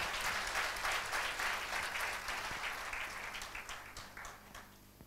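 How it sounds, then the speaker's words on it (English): An audience at a talk applauds in a dense wash of clapping that slowly thins and fades, heard at a moderate distance with no voices over it. "Give a loud round of applause."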